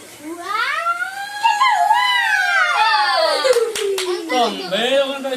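A person's voice imitates dogs and jackals howling: long, loud wailing tones that rise and fall in one continuous sweep.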